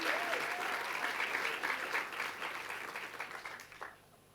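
A church congregation claps and cheers for God in a loud, dense burst of applause that gradually thins and fades over a few seconds.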